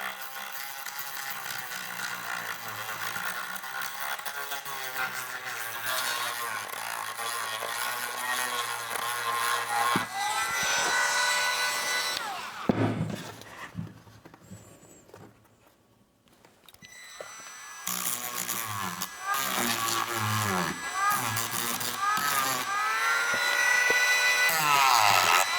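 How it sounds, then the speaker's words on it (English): Dremel tool with a small sanding bit smooths a plastic Lich King helmet, giving a thin high whir with scraping bursts that drops out briefly and then resumes. "we're just going to use a little sanding bit in our Dremel tool"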